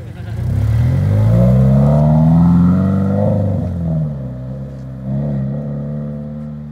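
Toyota GT-86 fitted with a Spec-D catback exhaust revs loudly and close by, a throaty rising and falling engine note that swells, eases off, then picks up again toward the end.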